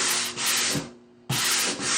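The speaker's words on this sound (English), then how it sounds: "I'm going to use my sanding disc. I'm going to use the 60 grit." A 60-grit sanding disc scrapes across a painted DIY decor piece in two loud, harsh rasping passes separated by a brief pause, close and alone.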